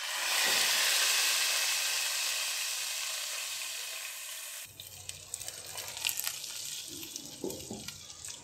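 Hot oil tempering with curry leaves, red chillies and cumin crackles in a loud, steady sizzle as it is poured into Hindi-style kadhi pakora, then fades into quieter clinks and stirring noises.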